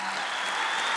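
A comedy show audience gives a short, steady burst of dense clapping, a loud wash of many hands lasting about a second.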